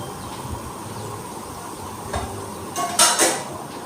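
Chopped, washed colocasia pieces tipped into a pan of sautéed onion and tomato for a kuzhambu: a quiet background hum, then a brief clattering tumble of pieces hitting the metal pan.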